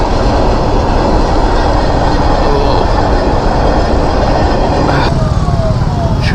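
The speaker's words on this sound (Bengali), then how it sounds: "ট্রেন যাচ্ছে।" A goods train passing near a roadside on a highway, loud and close, a continuous heavy rolling roar with rattling wagons and a faint horn-like tone near the end.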